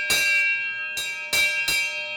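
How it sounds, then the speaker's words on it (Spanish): A railway station bell, formerly used to announce train arrivals and departures, rings four clear, resonant strikes in an irregular rhythm, each tone ringing on briefly before the next, alone without talk. "Antiguamente la llegada y la salida de los trenes se anunciaba con la campana."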